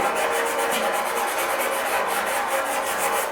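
Steady rhythmic rasping of 80 grit sandpaper worked back and forth over dented motorcycle bodywork during paint and dent repair, close and loud with quick regular strokes and no talking.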